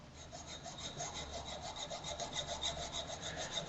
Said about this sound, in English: here the filing has to be done